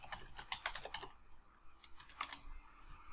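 Typing on a computer keyboard while entering login details, a quick run of soft close key clicks, then a pause and a few more taps, all faint.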